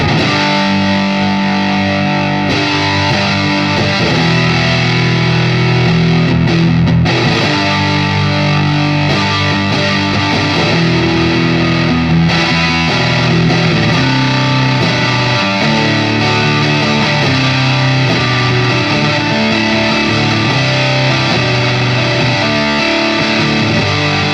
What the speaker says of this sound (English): Very bright and articulate distortion, but not overbearing.